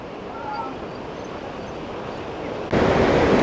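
A river rushes at the Buena Vista Whitewater Park in Colorado, a steady broadband roar of fast water that jumps louder near the end, with wind buffeting the microphone.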